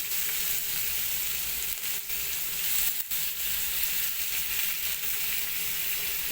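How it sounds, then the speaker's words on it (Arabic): Shish tawook chicken pieces sizzle in hot melted butter in a pan: a loud, continuous crackling hiss with a few sharper pops, and nobody speaks. "هننزل بقى ايه بالشيش بتاعنا كده واحدة واحدة عشان الطاسة بس ما تبردش معانا"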